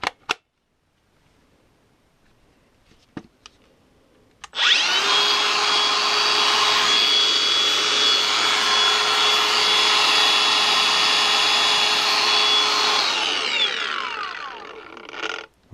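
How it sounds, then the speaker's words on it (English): A brand-new battery-powered Makita grinder spins up after a few quiet clicks and handling knocks, runs at a steady loud high whine for about eight seconds, then winds down. "Try it on my brand new Makita grinder that I've only recently purchased."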